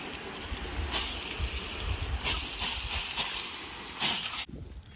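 A water spray rinses a car after emblem removal, giving a steady, broad hiss that surges louder in several short bursts. It sounds close and continuous, then cuts off abruptly near the end.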